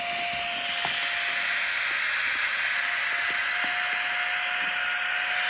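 A rechargeable wireless vacuum pump compresses a travel storage bag with a steady, even whirring hiss. The motor drone stays constant and moderately quiet from start to finish, recorded close, with no talking.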